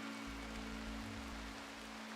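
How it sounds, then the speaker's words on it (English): Rain falls steadily and fills water butts, a constant dense hiss with a low mechanical hum beneath and no voices. "The butts are being filled by the rain"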